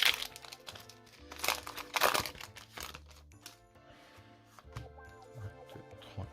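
Crinkly plastic wrapper of a Pokémon card booster pack being torn and opened, with bursts of close, crackling rustles in the first half and softer scattered crinkles after.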